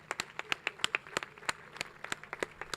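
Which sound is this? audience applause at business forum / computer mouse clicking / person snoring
audience applause at business forum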